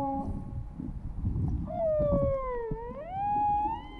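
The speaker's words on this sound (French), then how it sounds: "les mâles peuvent chanter pendant plusieurs heures pour séduire une baleine femelle ou" A male humpback whale sings underwater off Polynesia, one long tonal call that rises and bends in pitch over rumbling water noise, fairly loud and close.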